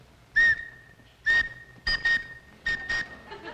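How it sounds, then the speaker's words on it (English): A toy whistle blown in four short bursts, each a steady high tone with brief pauses between, close and fairly loud. "This carries with it a magic whistle, and whenever you blow the magic whistle"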